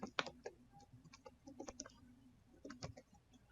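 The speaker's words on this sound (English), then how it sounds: "I'm going to come in here and type in private" Typing on a computer keyboard while writing code: soft, irregular bursts of key clicks close by, with short pauses between clusters.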